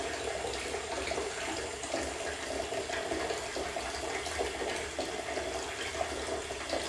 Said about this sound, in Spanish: Voy a guardar un momentito de silencio en lo que dejo el agua correr y te permito que lo escuches.